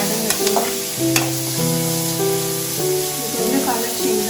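Onions frying and being stirred in a pan for a chicken dry dish, a steady sizzle with scraping stir strokes, under a continuous tonal hum and background noise.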